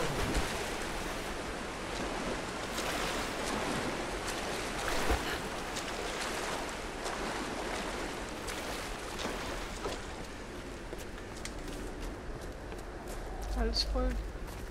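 A character wades through water in the Tomb Raider video game, steady splashing and sloshing under continuous game ambience that runs the whole time, with a few brighter splashes near the end.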